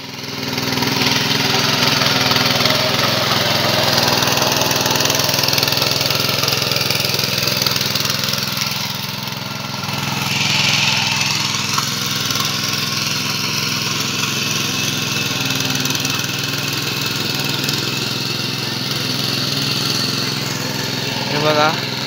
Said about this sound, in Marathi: मंडळी कशा प्रकारे इकडे नांगरणी केली जाते ट्रॅक्टरने आधुनिक पद्धतीने.